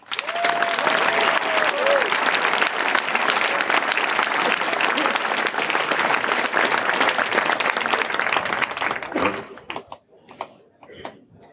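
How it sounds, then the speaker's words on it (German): Loud, dense applause from a large audience at a German science slam, sustained for several seconds before tapering off into scattered claps and quiet room noise. "Begrüße mit mir mit einem herzlichen Applaus Michael Büker."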